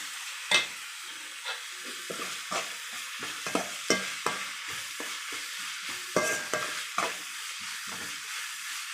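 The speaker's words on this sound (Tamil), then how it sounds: "இஞ்சி வெள்ளைப்பூடு, பட்டை கிராம்பு பொடி எல்லாம் ஆட் பண்ணி கொஞ்சம் வதக்கி விட்டுக்கிடுவோம்." Ginger, garlic and cinnamon-clove spice powder sauté in hot oil for a chicken gravy, giving a steady close sizzle broken by irregular scraping stir strokes from a spoon against the pan.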